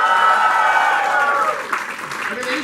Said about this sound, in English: I would like to hear a huge cheer for Karan Patel.